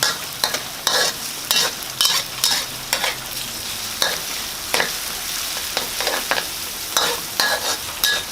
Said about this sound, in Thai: เจียวให้หอมแล้วก็เอาผักกาดลงไปผัด